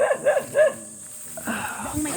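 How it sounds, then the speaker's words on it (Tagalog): A dog on Mount Balagbag barks three times in quick succession at moderate distance, followed by quieter background noise and people talking. "May aso."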